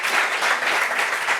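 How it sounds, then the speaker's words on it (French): A studio audience on a French talk show claps in a steady, moderately loud burst of applause that pulses slightly and continues without anyone talking. "Ouais, applaudissements pour ça."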